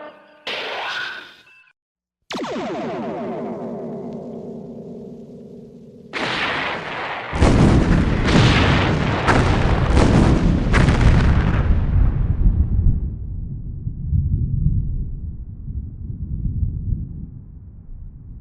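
Starship weapons in a sci-fi audio drama: a sustained energy blast opens, then a run of heavy booming shots, followed by a rumbling roar that fades slowly, loud and close.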